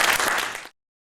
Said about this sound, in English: I'll big round of applause for them to start.